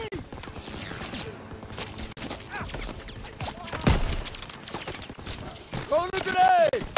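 Gunfire in the World War II shooter Call of Duty WW2, a D-Day farmhouse fight with a machine gun in a hayloft, with bursts and impacts under game voices and a louder surge near the end.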